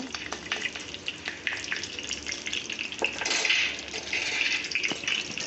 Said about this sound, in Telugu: వేయించుకున్నామండి వెల్లుల్లిపాయలు